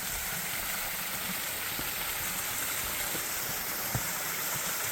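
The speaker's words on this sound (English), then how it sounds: "Forms a waterfall." Water pouring over an old sawmill dam of large stones, forming a small waterfall: a steady, continuous rushing hiss with no pauses, fairly loud and even throughout.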